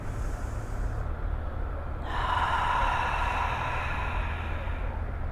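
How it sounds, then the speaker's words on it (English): Deep breathing during a beginners' Kundalini yoga exercise: a long, airy inhale followed by a steady exhale, close and fairly loud over a low background hum, with no talking. "Deep inhale, exhale one round."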